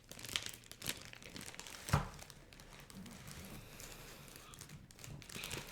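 Soft crinkling and rustling of a plastic bag holding candy from the United States, close and quiet, with a few sharper crackles early on and faint murmuring under it.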